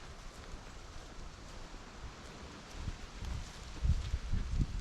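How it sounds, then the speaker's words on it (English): Wind moving through pine trees on a mild, sunny day, a soft, steady rushing that swells into stronger gusts with low buffeting toward the end. "And wind blowing through the pine trees."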